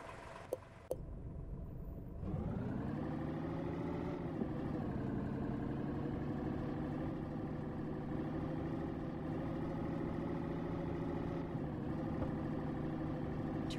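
A Turkish BMC truck engine in a video game starts up after a couple of clicks and settles into a steady, droning idle that holds evenly to the end.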